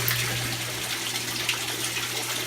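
Water runs steadily out of an adjustable drain pipe in a daphnia culture tank, a loud continuous gushing splash with a low steady hum beneath it and no speech.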